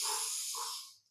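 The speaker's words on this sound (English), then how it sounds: "And breathe in through the nose." A slow inhale through the nose during a guided breathing exercise, a soft airy hiss lasting about a second and fading out, close and quiet with no talking.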